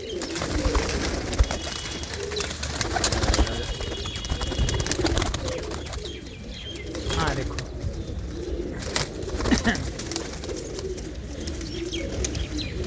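Hobby pigeons coo in soft, repeated throaty calls close by, with chirps mixed in, while people talk over them throughout.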